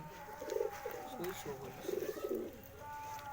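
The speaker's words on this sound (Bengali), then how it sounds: "এই আমাদের কবুতর খাবার দিচ্ছি, খাবার দেখো" Pigeons coo in soft, repeated bursts while being fed grain such as wheat and paddy, the low throaty calls rising in a few clusters over faint background noise.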